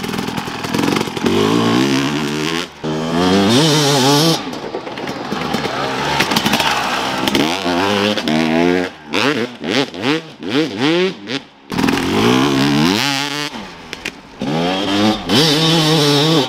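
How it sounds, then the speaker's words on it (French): A motocross bike corners on a flat turn, its engine loud and close, revving up and dropping off in repeated bursts with short lulls. Any chain slap stays buried in the engine noise. "sur le dernier passage, la chaîne claque moins"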